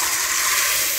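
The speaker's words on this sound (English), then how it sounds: "I just added my beans" Dry Nigerian oil beans tipped into a pot of water, giving a steady, close hiss of water and pouring that fills the whole second evenly, with no talking.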